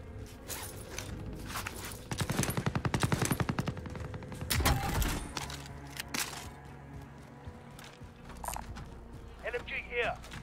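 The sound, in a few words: machine gun fire in the video game Call of Duty: Warzone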